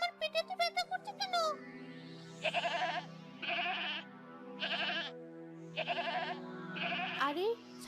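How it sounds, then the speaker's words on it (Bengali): A goat bleats repeatedly at night from inside a goat shed, with loud, drawn-out quavering cries following a burst of rapid short calls, each separated by brief pauses. "ছাগলের ঘর থেকে কেমন কান্নার আওয়াজ আসছে।"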